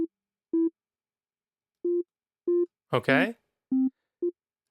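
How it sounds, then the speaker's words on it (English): Short, pure electronic sine-wave tones from Reaktor 6 repeat through a delay effect at uneven intervals, sounding like a delayed echo of a sine beep, with a brief spoken word in the middle. "take from the sine wave on 1, send it to the delay on C"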